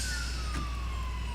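Ambulance siren wailing as it passes by in the video game GTA IV, a steady tone sliding slowly down in pitch over constant low engine and road hum.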